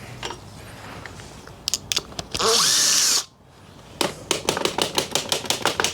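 A power tool tightens a clamp on a motorcycle motor during a chopper build. Scattered clicks lead into a loud, sustained whirring burst, then a short pause, then a quick rhythmic series of sharp ratcheting taps.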